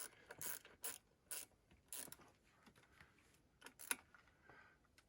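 A small hand ratchet clicks in short bursts while tightening bolts on an idle air control valve, sharp near ratcheting strokes separated by pauses over a quiet background.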